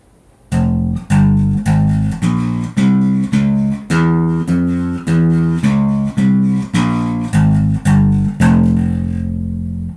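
A metal-toned bass guitar plays an F harmonic minor scale, about fifteen evenly spaced plucked notes stepping one after another, loud and clean, ending on a sustained note.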